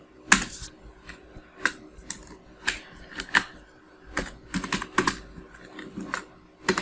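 A computer keyboard being typed on, bursts of crisp close key clicks in uneven clusters with short pauses between, alone in a quiet room.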